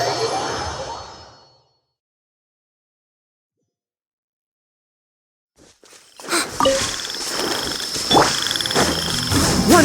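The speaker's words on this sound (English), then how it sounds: "can you hear the frogs croaking?" Frogs croak in a video game night scene, a soft burst at the start, then near silence, followed by a loud, dense chorus of croaking with whooshing ambience that fills the rest.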